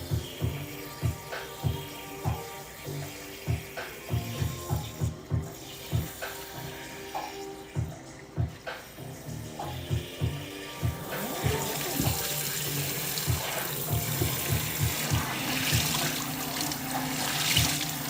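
Tap water runs over tie-dyed fabric being rinsed in a sink, with rhythmic splashing and sloshing at first, then settling into a steadier, louder gush of flowing water.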